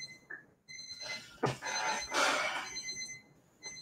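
Electronic beeping from a computer during a live coding session, a few sharp tonal beeps with steady high harmonics, moderately loud and close, with no talk over them.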